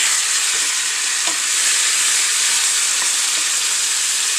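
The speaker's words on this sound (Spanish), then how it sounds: "aquí tengo ya picado el tomate, tengo apio y el chile, nuestros tomates. También los voy a freír." Chopped tomatoes, celery and chili fry in a pan for a chicken tomato soup, a loud, steady, close hiss and sizzle with faint stirring scrapes and no talk.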